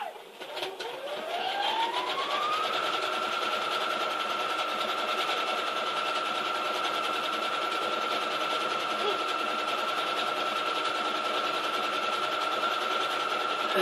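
A sewing machine stitches a quilt label, spinning up within the first couple of seconds to a steady, fast whirring run that continues evenly up close.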